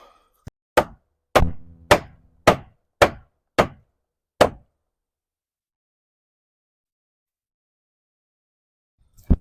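Hammer blows on a wooden pallet cabin cornice, a single knock then six sharp, evenly spaced strikes ringing close and loud, followed by a long silence and one last hit.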